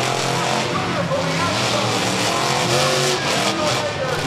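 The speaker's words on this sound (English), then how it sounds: "Almost not enough power behind the truck to make that ramp." Monster trucks racing side by side on a track at Charlotte Motor Speedway: a dense, loud, continuous engine roar with crowd noise, and a commentator talking over it.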